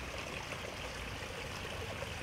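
Water from a small waterfall in a garden fish pond flows and splashes steadily, a continuous soft rushing wash with no voices.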